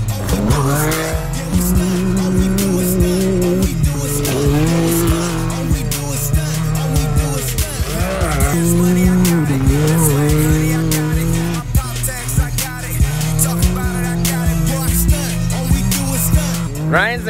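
A 2019 Can-Am Maverick X3 X RS side-by-side roars along at full power, its engine loud and continuous while the tires squeal and skid repeatedly through hard driving, with no talking.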